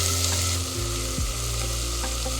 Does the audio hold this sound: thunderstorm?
no